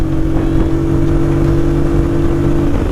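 A KTM motorcycle rides the mountain road of Charmadi Ghat, its engine holding a loud, close, steady drone with a constant buzzing pitch and rushing wind beneath.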